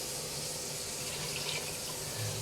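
Tap water runs steadily into a kitchen sink, a constant close rushing stream with no talking over it.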